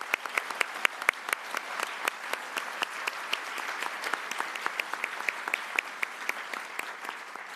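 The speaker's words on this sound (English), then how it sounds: "let's give all of our recipients a great round of applause" Steady audience applause for award recipients at a health mission awards ceremony in a hall, dense continuous clapping with sharp individual claps standing out, sustained evenly without voices.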